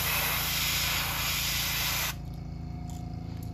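Airbrush spraying paint onto a custom crankbait fishing lure: a close, steady hiss of spray for about two seconds, then it cuts off abruptly, leaving a quiet low hum.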